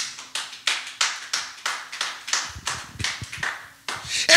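Congregation clapping in a church, a steady, rhythmic clap roughly three times a second, fairly close and moderately loud, with heavier hand strikes joining partway through.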